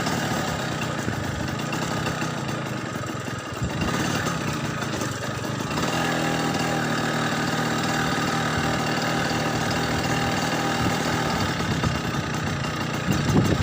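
A vehicle engine runs continuously at a steady idle-like drone close by, with a slight change in tone partway through and no talking.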